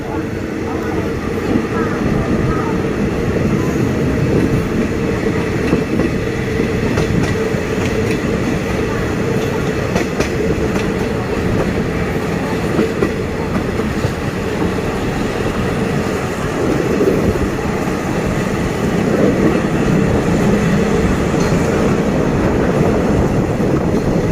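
Steady, loud rumble and rattle of a train rolling along the rails around a curve near Photharam, Thailand, continuous throughout with no pauses.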